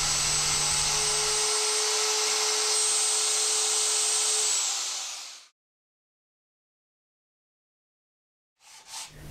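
A router fitted with an 11.11 mm guide bushing cuts out a wood inlay piece, giving a steady high-pitched whine for about five seconds that spins down into silence, then restarts briefly at the end.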